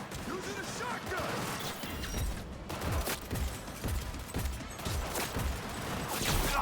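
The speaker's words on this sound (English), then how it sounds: "Using a shotgun!" Shotgun blasts in Cyberpunk, a run of booming impacts and crashes in quick succession, loud and close, mixed with combat noise and a voice talking over the action.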